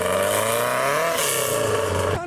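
Turbocharged Nissan Skyline pulling away from a wet car meet, its engine note rising and shifting pitch steadily and fairly close, with a brief drop near the end.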